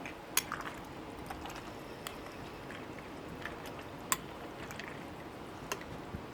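Cucumber and spring onion salad turned gently in a bowl, giving soft wet squishes and occasional light clinks of a utensil, quiet and close with no talking.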